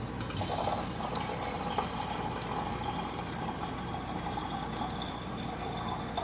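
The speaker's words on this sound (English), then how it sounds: "And then you have to fill it with water, which is what I have here." Water poured steadily into the tank of a Cappuccino Amore lever espresso machine, a continuous close splashing and trickling fill with no talk.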